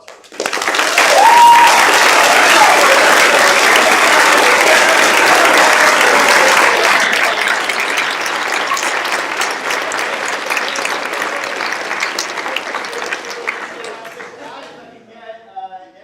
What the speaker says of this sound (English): Can everyone please join me in a round of applause for